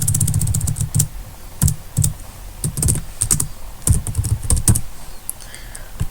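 Code being typed on a computer keyboard, a close run of quick clicking keystrokes in irregular bursts with brief pauses between them, and no voices.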